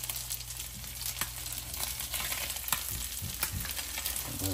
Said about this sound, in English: You should hear it sizzling.